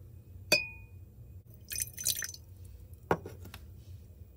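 Water poured into a container for a marker-ink paper chromatography demonstration: a sharp clink, a short splashy pour in the middle, then another brief tap, close and fairly quiet with no talking.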